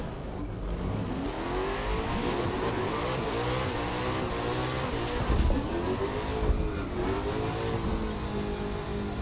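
A drag racing car in The Crew 2 roars along with a loud engine that revs and shifts, its pitch rising and falling repeatedly over a sustained high-speed drone.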